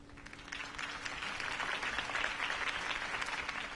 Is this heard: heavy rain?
no